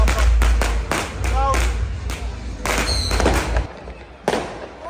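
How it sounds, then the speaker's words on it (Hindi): Fireworks and firecrackers bursting at a New Year street celebration in Italy, a rapid series of sharp loud cracks and bangs with whistling rockets, some near and some farther off, with faint crowd noise. "इधर तो पटाखे अभी भी छूट रहे हैं"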